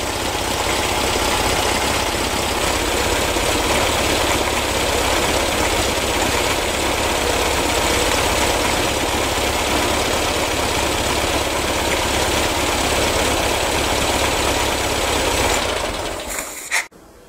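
A vintage car engine idles steadily and loudly at close range during carburettor adjustment, with a vacuum line for ignition timing pulled off while it runs; the even running continues throughout and cuts off abruptly near the end.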